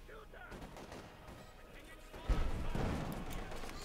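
Battle sounds from Company of Heroes 2 as a Soviet T-70 light tank fires on German Jaeger infantry, with a sharp blast midway followed by rumbling, crackling combat, and a commentator talking over it.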